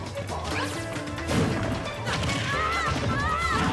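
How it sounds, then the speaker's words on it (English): A down smash attack lands in a Super Smash Bros. match, producing a loud crunching impact with whooshing game effects and a busy mix of battle sounds around it. "Nice down smash coming out."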